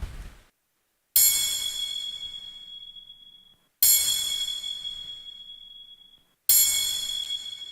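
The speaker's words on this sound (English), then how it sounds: "I have crash, couple of bells, just playing together with the snare." Crash cymbal and bells ring out together with a snare in an electronic track, three sharp bright hits a few seconds apart, each decaying slowly into silence.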